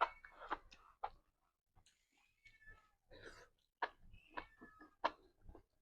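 A cat meows softly several times, with scattered faint chirps and small ticks between the cries, in a quiet room during a home meal.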